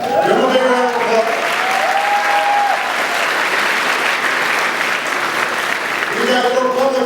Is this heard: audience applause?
yes